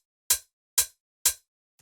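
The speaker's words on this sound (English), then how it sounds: "But the first layer here is this open hi-hat," A shortened open hi-hat sample in a minimal house percussion layer, three bright, clipped hits struck at an even pace with quick decays, a fourth just starting at the end, dry and alone.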